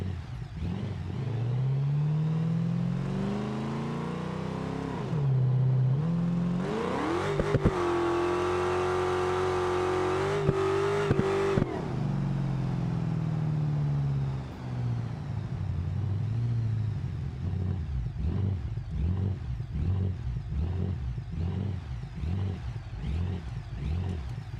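Engine in BeamNG driving game revving hard through a burnout, a loud sustained whine that climbs and holds high, then drops into rapid rhythmic pulsing as the revs bounce, close and alone.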